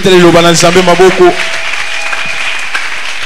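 A church congregation breaks into a burst of clapping, which follows a voice and then fades to a lighter patter.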